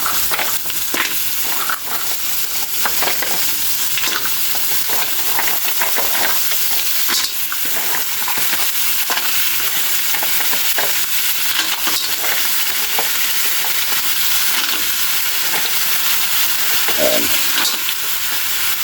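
Mussels for tinolang tahong cook in a pot with a loud, steady sizzle and hiss, and faint stirring clatter runs underneath throughout with no voices.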